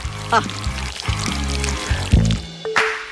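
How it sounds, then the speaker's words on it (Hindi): Honey poured into a bottle in a cooking setting gives a short liquid pouring sound, partly masked by louder background music. "अब केवल बोतल में शहद डालना बचा है।"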